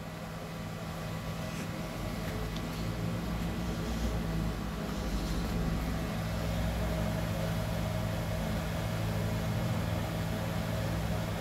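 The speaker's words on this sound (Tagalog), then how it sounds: "Yan, nakon na po yung electric fan." A 50-watt, 20-volt electric fan runs off a DIY solar generator battery pack, giving a steady, continuous whir and hum with low motor drone, even and unbroken throughout with no talk.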